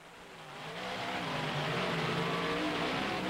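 A monster truck engine revving during a 1996 drag race in Canfield, Ohio, a loud sustained roar that swells over the first second and holds steady, heard from a distance without voices.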